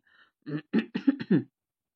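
A man in a Bengali audio story clears his throat in a short series of gruff, close coughing bursts, isolated and fairly quiet, with no talk around it.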